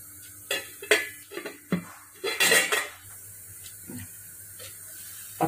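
A metal pot clatters and clinks as a lid is set and adjusted on it, several sharp knocks spaced over a few seconds, with a soft simmering hiss faintly underneath and no talking.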